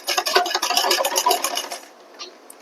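Sewing machine stitching a lined blouse with a cord left sticking out, a fast rattling run of needle strokes that stops partway through, followed by a faint rustle of fabric.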